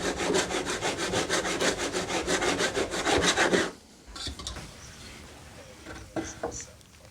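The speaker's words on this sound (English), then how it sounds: "So I'm going to get another piece of wood cut down and screwed in." A hand saw cuts through a piece of wood in a small workshop, about twenty fast, even back-and-forth strokes up close, then a stop followed by faint handling knocks and scrapes.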